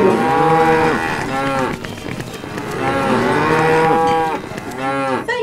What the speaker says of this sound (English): Cows to the rescue!